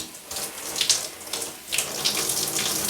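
Water from a tap runs steadily while shampoo is rinsed out of long hair, a close, hissing flow with soft splashing and brief surges as the stream breaks over the head.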